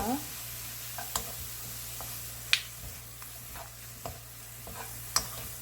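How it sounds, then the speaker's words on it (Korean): Small anchovies are stir-fried with garlic and chili peppers in a pan, with steady sizzling and a spatula tapping and scraping now and then as they are tossed. "여기에 마늘하고 고추하고 다 넣어줍니다. 같이 볶아주세요."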